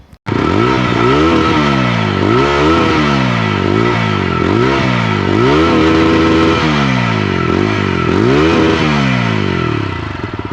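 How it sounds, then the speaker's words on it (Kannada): A TVS Apache RTR 160 4V motorcycle with a 160cc engine, revved repeatedly at a standstill, its exhaust note rising and falling in loud close sweeps over a steady idle for about ten seconds, with no talking. "ಈ ಗಾಡಿದು ಎಕ್ಸಾಸ್ಟ್ ನೋಟ್ ಆಗಿದೆ ಅಂತ ನೋಡೋಣ ಬನ್ನಿ"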